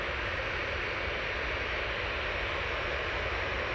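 An Emirates airliner at Manchester Airport gives off a steady, loud, broadband engine roar that stays constant throughout, with no talking.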